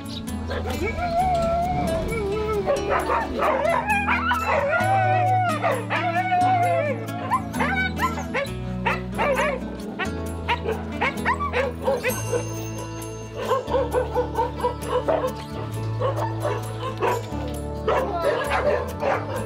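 Dogs at an animal shelter bark, yip and whimper in repeated bursts, some near and loud, some howling thinly farther off, mixed with music and a person talking.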